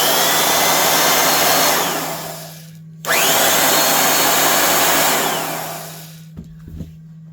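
Porter Cable A3 Take-About air compressor running loud and steady with a constant hum, stopping briefly near the three-second mark, restarting, then winding down with a few faint knocks at the end.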